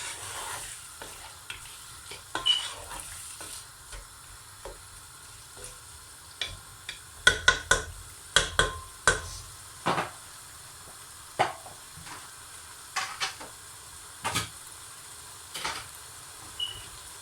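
Potatoes and cauliflower simmer and sizzle quietly in curry sauce in a pan, punctuated by scattered clicks and scrapes of stirring, some in quick clusters.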